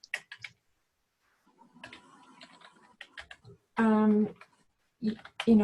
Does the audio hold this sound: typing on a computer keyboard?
yes